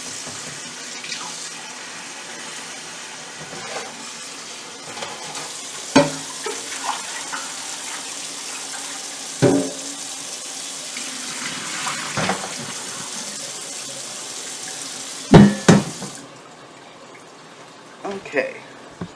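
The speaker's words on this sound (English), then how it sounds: "I'm going to rinse it out really good." Tap water runs into and splashes around a sterilized container being rinsed out, steady running water with sloshing and a few sharp knocks and clunks, a voice speaking at times.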